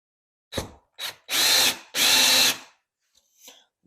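Short bursts from a power drill driving a screw into drywall in a tiny home build, two quick blips followed by two longer whirring runs, close and loud, then faint clicks and handling.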